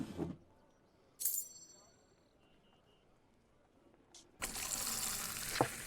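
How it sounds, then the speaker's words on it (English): A Fable II tavern pint is drawn from a beer tap, with short bursts and faint chimes before a loud, steady gush of pouring liquid takes over near the end. "A perfect pouring."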